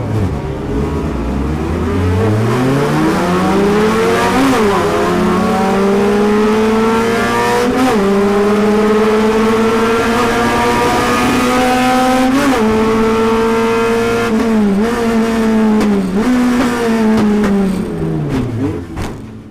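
Race cars in a one-make series accelerating together off the start, a dense, loud, continuous engine roar with rising and shifting pitch, repeated gear changes and a brief tire squeal, with no talk over it.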